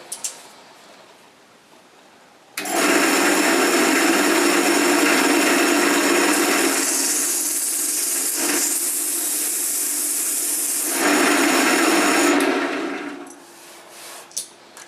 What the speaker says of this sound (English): it's now time to get on with the sanding